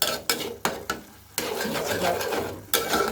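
Fish being stir-fried and mashed down in a pan with a little added water, heard as scraping spoon strokes against the metal over a steady wet sizzle, close by.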